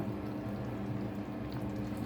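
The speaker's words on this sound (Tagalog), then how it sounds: "Dagdagan pa natin ng tubig" Water poured into a pot of sotanghon glass noodles and mung beans, a steady continuous splashing and trickling rush, close and fairly quiet, with no talking.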